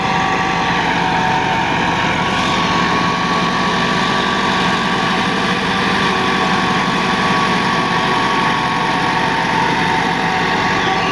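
A 2010 Massey Ferguson 375 tractor engine runs steadily at 1800 RPM driving a 54-blade rotavator, a constant droning hum with a whining overtone that never lets up, close by and loud.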